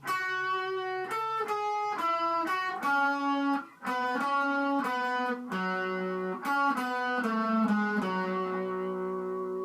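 A distorted electric guitar plays a slow melody of single sustained notes from a battle theme of Pokemon Omega Ruby/Alpha Sapphire, one after another, clear and up front with no voices.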